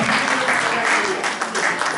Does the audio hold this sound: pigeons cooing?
no